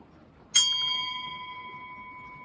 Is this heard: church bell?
yes